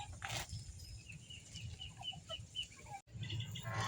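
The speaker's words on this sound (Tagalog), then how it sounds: "Mga bibe tsaka native na manok" Native chickens on a farm, alongside ducks, give soft scattered clucks among faint outdoor ambience, with a brief rustle or wing flap near the start and a short dropout near the end.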